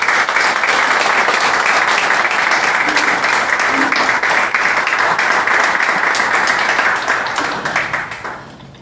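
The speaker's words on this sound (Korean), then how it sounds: "여러분 큰 박수 부탁드리겠습니다" A large audience at a church press conference applauds steadily and loudly for about eight seconds before the clapping tapers off.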